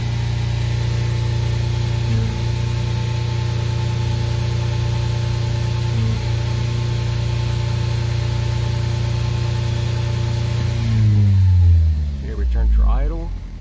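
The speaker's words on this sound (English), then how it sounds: "We're going to go wide open throttle." Ford Focus with a DPS6 dual-clutch transmission, engine humming steadily at idle, then rising in pitch as it revs hard at wide open throttle near the end, close and loud, with a person speaking.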